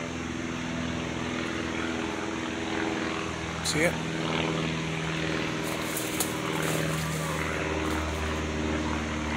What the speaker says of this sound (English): What a one passenger plane.